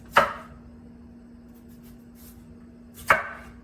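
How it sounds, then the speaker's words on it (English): Two sharp knife strikes on a cutting board as golden potatoes are cut into chunks, spaced about three seconds apart, crisp and close with quiet in between. "I'm just gonna take some golden potatoes and chunk these up"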